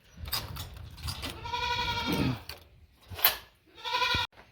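A goat on a farm bleats loudly and repeatedly at close range, several drawn-out wavering calls separated by short pauses, with some low rustling between them.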